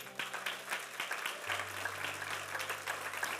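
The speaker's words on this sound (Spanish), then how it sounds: "Dale un aplauso al Señor, por favor." Church congregation applauding during a Spanish-language sermon, a dense patter of clapping from many hands through the whole span, over a low sustained organ or keyboard tone.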